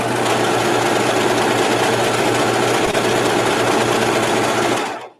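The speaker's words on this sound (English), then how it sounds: "Then go ahead and serge." A serger stitching a rolled hem on fabric runs at a steady high-speed whir with a constant mechanical buzz, close and loud, before cutting off abruptly at the end.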